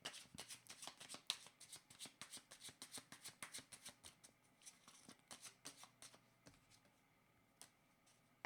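Oracle cards are shuffled by hand in a rapid, even run of soft riffling flicks, close and fairly quiet, slowing to a few scattered taps at the end.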